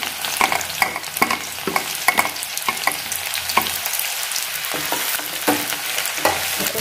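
Mustard oil sizzles and crackles steadily as garlic fries, with repeated sharp scraping taps of a spatula stirring the pan; no voices.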